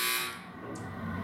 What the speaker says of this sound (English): I don't know why they decided to install the Family Feud buzzer in this elevator